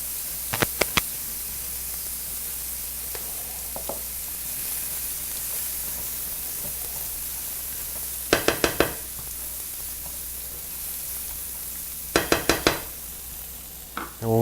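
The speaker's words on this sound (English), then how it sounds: "It doesn't take long for them walnuts to roast." Walnuts roasting in a hot pan for catfish: a steady, soft background sizzle and hiss throughout, broken by a few short bursts of sharper clicking and scraping stirs near the end, no talking.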